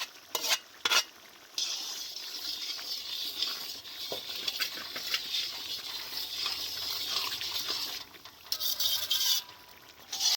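Chili powder frying in hot oil for a shallot thokku, a steady broad sizzle with occasional stirring scrapes and brief gaps, close and fairly loud throughout.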